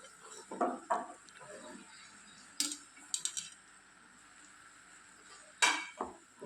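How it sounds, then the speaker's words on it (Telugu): Okra pieces tipped into a pan of tempering for an okra tomato curry and stirred, giving a few scattered clinks and scrapes of a utensil against the pan, fairly faint, with quiet gaps between. "ఇప్పుడు మనము బెండకాయ ముక్కల్ని యాడ్ చేసుకుందామండి"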